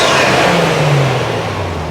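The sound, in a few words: Toyota Chaser JZX100 engine revving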